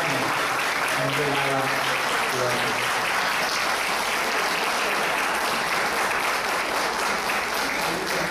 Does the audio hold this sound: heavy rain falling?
no